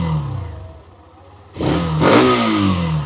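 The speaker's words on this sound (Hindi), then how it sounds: "तो ये है फ्रेंड्स बाइक का एग्जॉस्ट साउंड" Close-up exhaust of a Hero Xtreme 125R motorcycle idling, then revved with a sharp rise in engine note that holds at a higher pitch before easing slightly; a mild, not very bassy tone.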